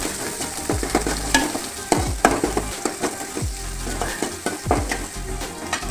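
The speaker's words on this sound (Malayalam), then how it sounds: "ഉള്ളി പച്ചമുളക് എരിഞ്ഞത് ഇട്ട് കൊടുക്കാൻ പോവുകയാണ്" Onion and green chilli fry in hot oil for an okra curry, a steady close sizzle broken by repeated scraping stirs of a spoon in the pan, with no voices.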